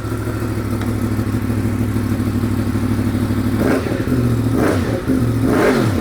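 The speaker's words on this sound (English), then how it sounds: "you have to hear the SC Project exhaust and watch your ears." Yamaha MT-10 motorcycle fitted with an SC Project exhaust idles loud and close with a deep, throbbing burble, then blips its throttle three times in quick revs that rise and fall.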